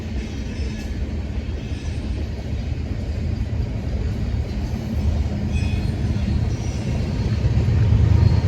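The two rear distributed-power locomotives of a BNSF freight train rumble past on Union Pacific rails in Pacific, Missouri, with a heavy, continuous roar that builds louder toward the end, with no talking.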